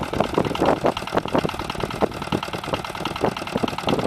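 Rotary tiller set high to work as a mulcher, chopping a mustard cover crop without touching the soil, giving a close, steady mechanical churning with rapid rhythmic thumps over a running tractor engine.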